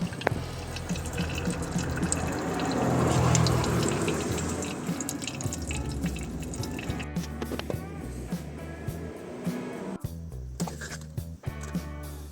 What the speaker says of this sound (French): On va tout d'abord voir le vieux liquide sortir, plus brun